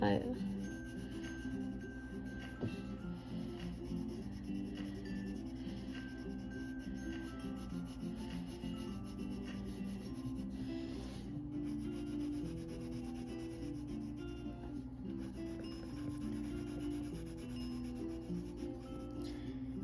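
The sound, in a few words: coloring on thick paper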